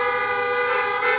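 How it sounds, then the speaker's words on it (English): Car horns honking on a street in Tbilisi, one loud sustained horn tone holding steady throughout, close by and prominent over faint traffic. "they're honking like crazy here"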